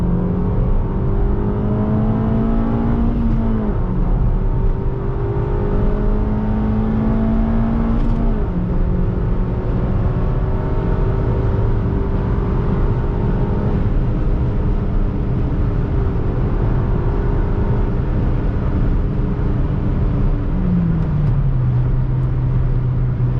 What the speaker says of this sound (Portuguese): Vou fazer uma saidinha aqui de segunda, só pra vocês terem noção, saindo do Pardal aqui de segunda.